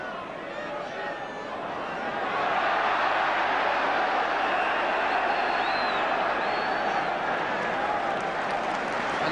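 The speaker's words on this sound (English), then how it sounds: "the applause speaks for itself" Large football crowd at a 1977 Sunderland versus Spurs match applauding at half-time, a broad sustained roar of clapping and cheering that swells after a couple of seconds and stays loud throughout.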